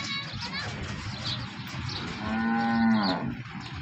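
A cow gives a long, loud moo near the end, close by, over a busy background of chatter and children's voices, at a village in Tharad taluka, Banaskantha.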